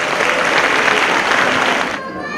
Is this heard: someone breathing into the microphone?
no